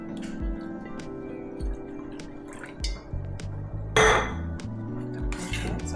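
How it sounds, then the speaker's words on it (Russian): Water splashes and trickles into a pan amid clinks of cookware, with a brief louder gush midway, close by and without talk, while making mapo tofu. "Теперь сюда я добавлю воды."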